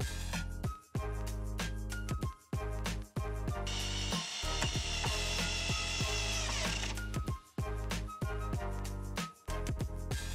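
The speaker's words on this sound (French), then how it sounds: "on vient visser la partie haute de l'arrière de la serre" Screws driven into the upper back section of a homemade wooden garden greenhouse, a power drill whirring in repeated bursts with brief pauses between them, close and loud.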